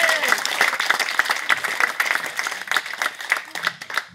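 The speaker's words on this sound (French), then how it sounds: "Et on peut applaudir la première pierre." An audience bursts into applause, dense close clapping for several seconds that gradually thins and fades near the end.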